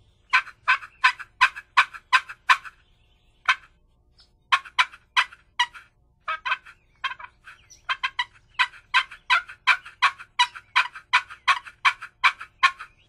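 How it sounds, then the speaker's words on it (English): Rapid bursts of turkey-like gobbling from a spring-loaded squeeze-box turkey call, repeated in quick rhythmic runs with short pauses between, loud and close with no talking. "This is a call used to finish your turkeys."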